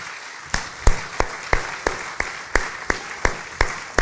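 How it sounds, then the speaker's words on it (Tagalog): A church congregation at a Filipino worship service claps in a steady, even rhythm, with sharp hand claps landing about three times a second over a low room murmur. "Palakpakan po natin muli ang ating Panginoon."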